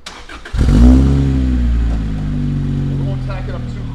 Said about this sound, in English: That's a four-cylinder motor, great exhaust note.